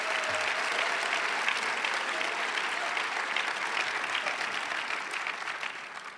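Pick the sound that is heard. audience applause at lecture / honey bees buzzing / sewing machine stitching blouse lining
audience applause at lecture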